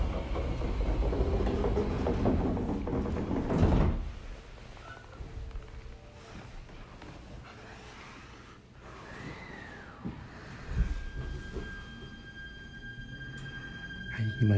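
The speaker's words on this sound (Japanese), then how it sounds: "直江津行き発車をいたします。" A JR ET127 series electric train departs Joetsumyoko Station on the Myoko Haneuma Line, pulling away with a loud rumble of wheels and motor that settles into a steady hum and clatter, with faint squeals as it gathers speed.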